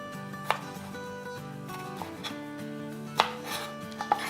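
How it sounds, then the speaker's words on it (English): A knife slices green chilies on the diagonal into fairly large pieces, giving a few sparse, crisp cuts against a board spread irregularly over a quiet kitchen backdrop. "First we are going to slice our green chilies, diagonal, little bit bigger."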